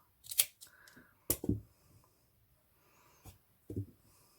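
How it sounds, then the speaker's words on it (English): Scissors cut lace for an elastic headband with a few quick, close snips scattered across a quiet moment, with soft rustling between the cuts. "Just going to cut some of that off so that's not noticeable."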